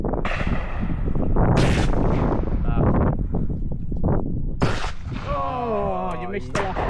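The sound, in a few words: shotgun firing at clay targets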